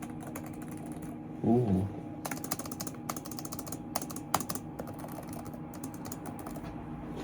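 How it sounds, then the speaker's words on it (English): Keys clatter steadily on the keyboard of an HP Omen Transcend 14 gaming laptop, a run of crisp, close taps, with a brief voiced exclamation early on. "very nice sounding keyboard"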